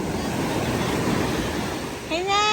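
Ocean surf washing onto a beach at Nasugbu, a steady broad rush of breaking waves close by, with a whistling tone rising near the end.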